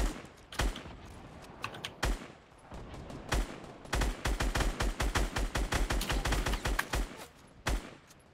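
Gunfire in a video game shoots out a base: scattered single shots come first, then a fast run of sharp, evenly spaced reports, with keyboard clatter mixed in.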